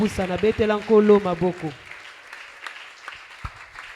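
A church congregation applauds during a French-language sermon, a brief stretch of broad, steady clapping that follows a few seconds of a voice speaking.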